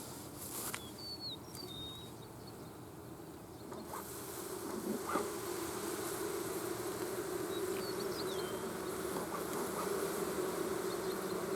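Old honeybees swarm and buzz around a smoked hive, a steady mid-pitched droning hum with occasional closer passes and faint bird calls in the background, no talk.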